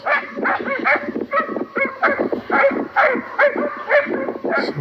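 Hunting dogs bark and yip rapidly and continuously, with several overlapping voices close by. The barking is loud and excited throughout.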